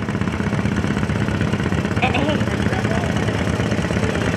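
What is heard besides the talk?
John Deere 40 antique tractor engine running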